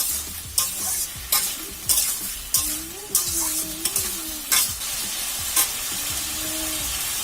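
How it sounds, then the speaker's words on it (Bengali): Papaya and fish curry is stirred and fried down in a pan, with a steady close sizzle broken by repeated scraping strokes of a spatula at a roughly even rhythm, loud and without talk. "আমি এটা ভালোভাবে কষিয়ে নিচ্ছি।"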